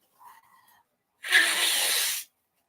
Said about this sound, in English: Sorry, y'all, I had to blow my nose.